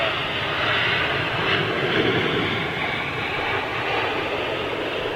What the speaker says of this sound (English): Good looking aircraft, this one though.